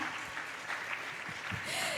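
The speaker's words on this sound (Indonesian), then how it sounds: "tepuk tangan yang meriah untuk kita semua" Audience applause at an Indonesian campus-and-career edutainment talk: a steady, moderately loud clatter of clapping from a crowd that fills the two seconds, with a brief voice rising near the end.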